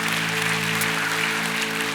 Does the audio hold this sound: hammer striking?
no